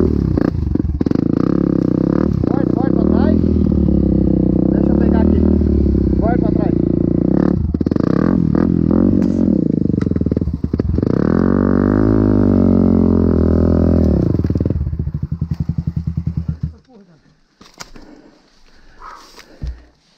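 A motorcycle engine drones and revs loudly and close on a dirt trail, with people shouting over it, before the noise drops away abruptly into quieter rustling near the end.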